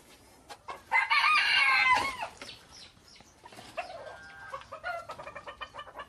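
Chickens in an ornamental bird coop: a loud nearby rooster crow, followed by a series of rhythmic clucks and cackles, close and clear with farm background noise.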